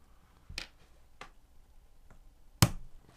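An XT150 connector's bullet pin is pressed into its black housing with a tool and snaps into place: a few sharp, dry clicks spaced apart in a quiet room, the last one loudest and closest.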